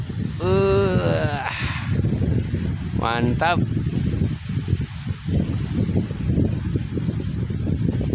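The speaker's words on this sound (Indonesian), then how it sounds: "Sadis banget anginnya" Strong wind buffets the microphone of an LS XT6 drone in flight, a steady low roar that runs throughout, with someone speaking briefly near the start.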